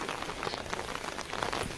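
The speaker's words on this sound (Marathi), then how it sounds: "जोरात दिलो पाऊस" Heavy monsoon rain pours down in open countryside in a dense, continuous patter of drops hitting surfaces, with no voices.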